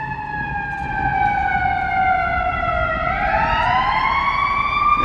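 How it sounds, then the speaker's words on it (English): An ambulance siren on Michigan Avenue in Chicago, loud and close, sweeping slowly down then back up in a continuous wail over street traffic noise. "Here comes some sirens."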